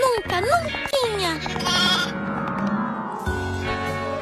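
A cartoon goat bleats in a few wavering cries near the start, then voices talk over the remaining sounds.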